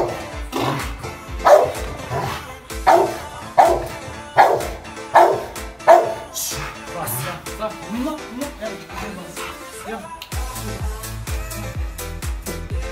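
A dog barks in the distance, five or six evenly spaced barks over steady background music, then the barking stops and the music carries on alone.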